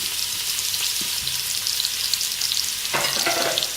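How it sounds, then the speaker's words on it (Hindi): Onions frying in a pan with ginger garlic paste for matar pulao, a steady broadband sizzle throughout, with a brief stirring scrape near the end adding a louder burst of crackle. "अब हम इन्हें थोड़ी देर के लिए और फ्राई करेंगे और प्याज को सुनहरी कलर का कर लेंगे"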